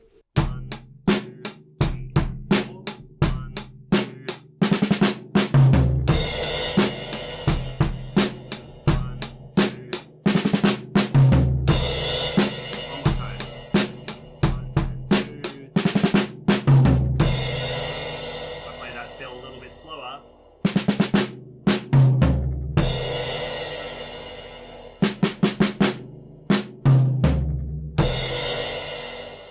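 A drum kit plays a groove with crashing cymbals, breaking into busy fills of quick snare strokes and tom hits several times.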